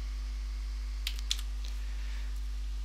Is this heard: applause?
no